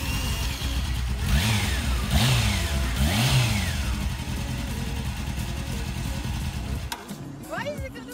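A car engine revs unsteadily as the clutch is let out too quickly with little throttle, rising and falling in pitch several times before dropping off, while people talk nearby.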